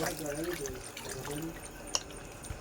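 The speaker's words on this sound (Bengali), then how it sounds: "এই মাংস রান্না করবো মাংসগুলো ধুয়ে নেব" Running water from a tap splashes steadily while raw meat, mostly skin-on pieces and feet, is rinsed in a home kitchen, with a sharp clink near the middle and faint background noise throughout.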